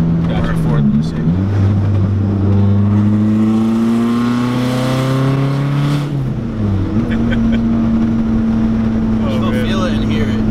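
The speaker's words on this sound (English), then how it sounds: "I'll get on it in fifth, so you can hear the VTEC cross over" A supercharged Honda S2000 making about 420 wheel horsepower accelerates hard in fifth gear, its engine note climbing steadily as the VTEC crossover sharpens the tone, then easing off; loud and close from inside the car, with brief talk.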